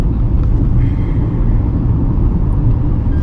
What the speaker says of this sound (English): the engine responds to the gear shifts very well